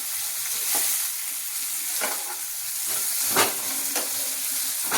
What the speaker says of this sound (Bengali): পেঁয়াজটা ভাজা হতে কতক্ষণ লাগবে?